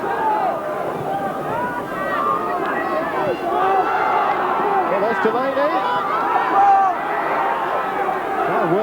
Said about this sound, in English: this has brought the crowd to their feet